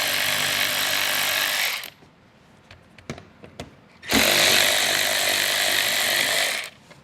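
An 8mm mud flap screw on a 2023 Subaru Legacy is driven out with a ratchet, producing two long, loud, whirring bursts separated by a quieter gap with a few sharp clicks.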